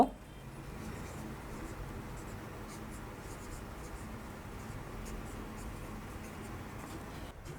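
Pen writing vector equations on paper, a faint continuous scratching and scribbling close by, steady and quiet for several seconds without speech.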